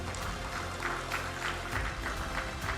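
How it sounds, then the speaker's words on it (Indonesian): A crowd at a formal government ceremony in Banten applauds for the governor, giving a sustained, fairly soft clapping that stays even from start to finish. "Tepuk tangan untuk Pak Gubernur."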